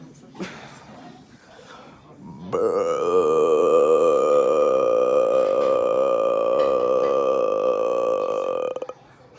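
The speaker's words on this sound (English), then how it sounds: "Try burping the hiccups out." A long, loud, sustained burp from a person trying to get rid of hiccups, rumbling steadily for about six seconds after some faint sounds.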